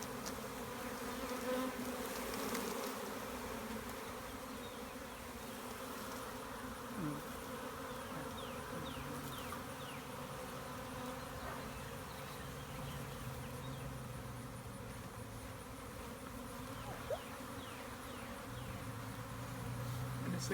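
A dense swarm of honeybees hums steadily and close by while clustering on a person's arm as a bee beard forms, a continuous buzzing drone that lasts throughout without pause.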